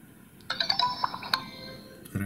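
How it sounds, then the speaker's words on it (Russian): A short, bright electronic startup melody of several chiming notes from a Motorola V3i phone powering on, fairly quiet against low background hiss. "Характерный звук включаемого телефона."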